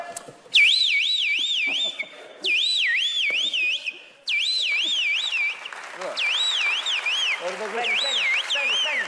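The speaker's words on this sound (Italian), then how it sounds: "quando tu inserisci l'allarme, no, alla macchina, che succede? Che poi arriva uno magari con una faccia brutta, che so, un malintenzionato, no, e vuole rubarla. E che succede? Che suona l'allarme." Car alarm siren wails in repeated warbling bursts, loud and close, stopping briefly between cycles with background chatter and noise underneath.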